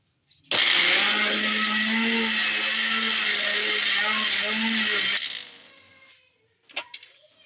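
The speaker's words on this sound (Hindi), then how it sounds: "इनको हम एक ब्लेंडर में डालेंगे" A blender grinds tomatoes with a little water into paste, running loudly for about five seconds with a steady high-pitched whirring grind, then winds down, followed by a few soft clatters.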